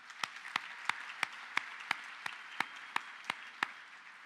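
Audience applause at a high school honors convocation, a soft, distant wash of clapping pierced by one louder pair of hands striking at a steady, even beat.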